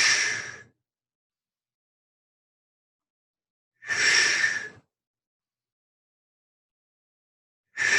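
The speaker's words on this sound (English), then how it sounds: "exhaling as you bring that knee up" Heavy exhaled breaths during a body-weight knee-up exercise, two full breaths and the start of a third, each about a second long, close and loud, spaced by several seconds of silence.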